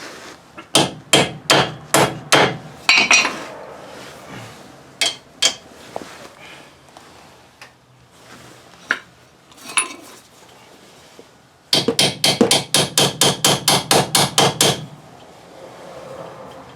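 A hammer strikes a seized wheel hub with sharp, ringing metallic blows, loud and close, in two fast rhythmic volleys of about a dozen hits each, with scattered single strikes between them.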